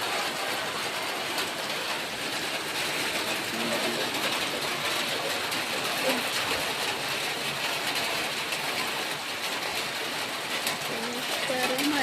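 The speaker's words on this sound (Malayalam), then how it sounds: "കണ്ടോ, സൂപ്പർ മഴ, നല്ല മഴയുണ്ട്." Steady rain falling, an even hiss of drops spread across the whole stretch without a break, with faint bird calls and a few soft background sounds mixed in.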